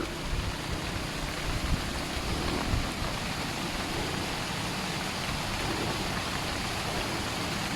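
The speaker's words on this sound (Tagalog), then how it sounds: "Uy, ulan man." Steady rain pours down, a dense even hiss of drops on surfaces throughout, with no voices.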